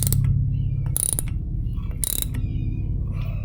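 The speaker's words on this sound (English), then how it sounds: "now we've got the ratchet with a 13/16 drive on it, ratchet head, and we will start gently" A ratchet wrench fitted with a 13/16 socket works to press a wheel stud into a hub, giving steady close-up clicking and mechanical grinding with two sharper bursts, no voices.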